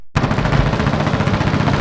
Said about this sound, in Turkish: Şizofrenik alarm ve silah sesleri.